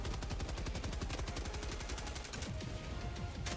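Rapid automatic gunfire from a weapon in the video game Helldivers 2 rattles on continuously, a dense stream of quick loud shots with no pauses, amid the chaos of battle.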